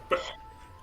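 A single short, sharp sneeze bursts out close by against a quiet room background.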